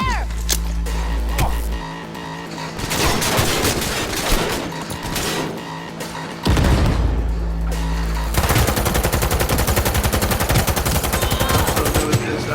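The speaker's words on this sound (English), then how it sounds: "So new at this, I don't even know how to shoot the guns yet." Cyberpunk 2077 gunfire, rapid automatic bursts and sustained volleys in loud stretches separated by short lulls, with engine-like rumble in the quieter gaps.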